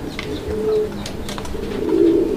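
A male pigeon, a large domestic breed kept for sale, coos in low, steady murmurs, close by and fairly loud, with a stronger swell of cooing near the end.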